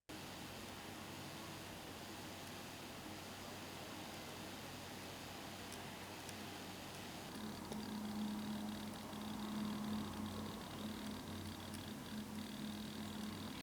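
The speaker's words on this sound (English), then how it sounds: "man, are the fans annoying at low RPM" Low-RPM cooling fans on a 2022 ASUS Zephyrus G14 laptop produce a steady close-up hiss with a faint whine, and a low tonal hum comes in about halfway through and pulses on and off.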